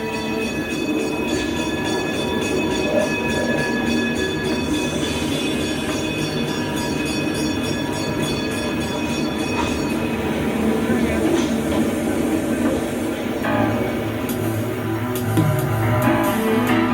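A Pikes Peak cog railway train starting down toward the depot rumbles loud and steady, with metallic rail noise and squealing wheels building toward the end.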